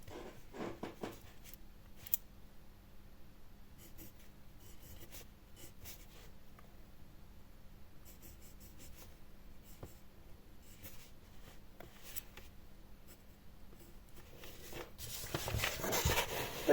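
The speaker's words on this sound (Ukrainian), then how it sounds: "олівець непоганий. Пише він." A pencil writes on paper, soft, close scratching strokes arriving in short bursts over a quiet background, growing a bit louder and rougher toward the end, with no talking.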